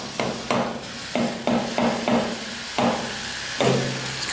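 Repeated metal hammer blows knocking a part off a 650cc shifter kart, about nine sharp ringing strikes at an uneven pace, close and loud, with no voices.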